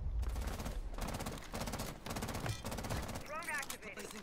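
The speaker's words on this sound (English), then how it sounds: "Fire your gun." Automatic gunfire in a video game, loud rapid bursts of shots with brief gaps, repeating through the clip and ending in a final burst alongside a short higher-pitched whine.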